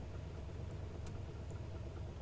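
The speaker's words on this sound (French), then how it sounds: "On arrête le moteur." A steady low engine drone from an aircraft in Microsoft Flight Simulator as the engine is shut down after parking, heard alone at a moderate, even level without a clear wind-down.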